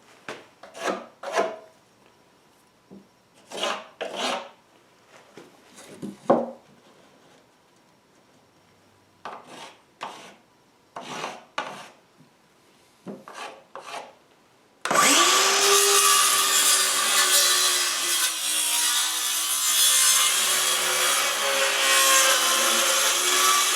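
Plywood rafter pieces for a chicken coop being cut: scattered short scraping saw strokes with pauses, then a sustained, loud, continuous power-saw cut through the wood for the rest of the span.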